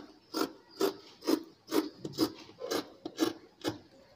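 Scissors cutting blouse fabric by hand, heard as a steady series of about nine crisp, rasping snips at an even rhythm, close up with no talking.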